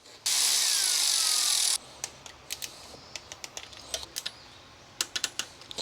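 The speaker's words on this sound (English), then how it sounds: "I'm going to bolt this back in." Power tool on the upper timing belt cover bolts of an Altezza engine: one steady whirring burst lasting about a second and a half, then a series of sharp clicks and taps from loose tools and parts close by.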